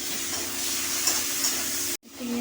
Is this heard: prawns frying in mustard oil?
yes